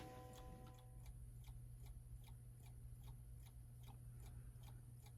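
A mantel clock fitted with a new Hermle 340-020 Westminster chime movement ticks in a steady, even rhythm, close and fairly quiet, with no talking.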